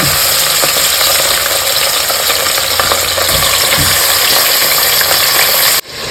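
Chicken sizzles and crackles loudly in hot oil, a constant frying hiss close up, with a few stirring clanks before it suddenly drops off.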